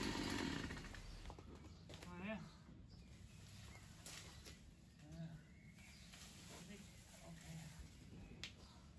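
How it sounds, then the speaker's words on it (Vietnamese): A chainsaw cuts through large, fast-growing cherry tree trunks in a garden, its engine droning steadily at a distance under background noise and occasional bird calls. "cho nên là phải cắt bằng cưa máy"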